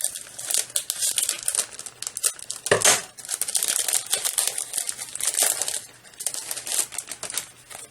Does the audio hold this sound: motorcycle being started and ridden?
no